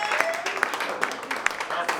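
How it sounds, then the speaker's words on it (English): An audience at a community roast event claps through a short burst of applause, a dense patter of hand claps with a few sharper peaks, close and moderately loud, with voices mixed in. "Can we get another round of applause, please?"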